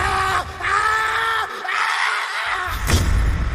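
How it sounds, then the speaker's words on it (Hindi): A writer's loud, piercing scream of terror in a horror tale, a long drawn-out harmonic cry that dominates, then breaks off near the end with a brief thud. "एक जोर से चीख सुनाई देती है।"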